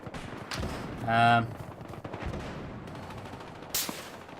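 Gunfire in the first-person shooter Battlefield Hardline during a team deathmatch, with scattered shots and short bursts mixed into game sound effects and a brief tonal horn-like blast, all fairly close and moderately loud.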